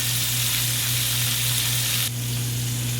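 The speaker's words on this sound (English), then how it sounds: "Whilst the chicken is frying," Chicken pieces fry in a pan, giving a loud, continuous close-up sizzle with a steady hum beneath it.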